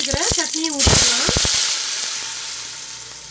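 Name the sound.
ground onion-tomato chutney poured into sizzling mustard tempering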